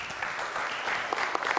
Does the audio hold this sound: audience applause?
yes